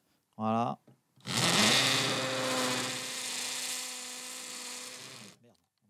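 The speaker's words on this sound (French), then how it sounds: "Je vais quand même percer par-dessus." A Bosch hammer drill-driver drills steadily for about four seconds, a loud continuous motor whine with a close, buzzing tone, preceded by a brief spoken word.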